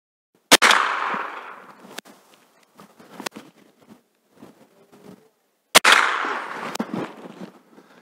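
Two sharp, loud gunshots several seconds apart at a single circle target during shooting practice, each with a ringing echo that fades, plus a few fainter clicks and handling sounds in between.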